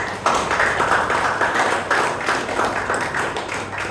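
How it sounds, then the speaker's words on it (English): Audience applause at a Toastmasters club meeting in Bangalore: a dense, steady round of clapping from the room that holds at an even, fairly loud level throughout, with no voices over it. "Can we have a thunderous round of applause for him today?"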